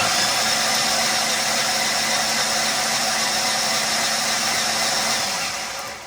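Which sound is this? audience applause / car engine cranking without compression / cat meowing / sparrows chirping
car engine cranking without compression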